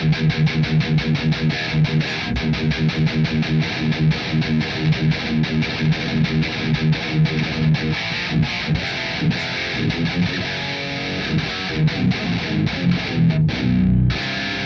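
An old-school thrash metal guitar tone played through an amp simulator: heavily distorted, tightly chugged rhythm riffing, loud and continuous with no talking, ending in a sudden heavier low hit.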